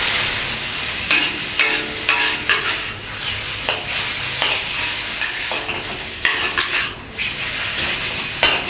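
Shimeji mushrooms stir-fry in a hot pan, a steady close sizzle broken by repeated scraping and clacking strokes of a utensil against the pan, with no voices.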